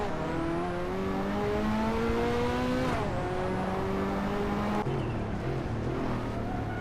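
Race cars accelerating hard in a Hot Wheels race, loud overlapping engine whines climbing in pitch through repeated gear shifts, with a brief upward sweep as a car passes close by.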